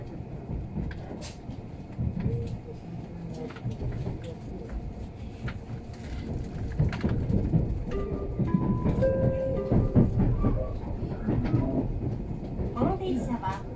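Tobu limited express Liberty train rolling along the rails, heard from inside a carriage as a low rumble with rhythmic clicks and clacks that grows slightly louder midway, with faint voices and an onboard announcement.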